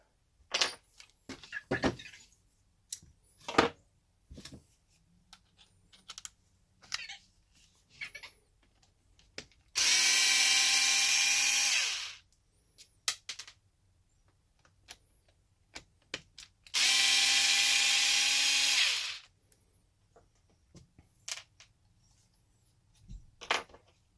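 Screws come out of an Arrma Kraton EXB RC truck's rear differential, with scattered small clicks and taps of handling parts and two separate few-second bursts of a loud, high whirring driver, close and otherwise quiet.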